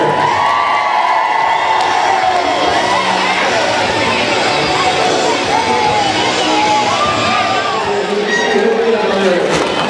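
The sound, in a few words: crowd cheering and applauding at roller derby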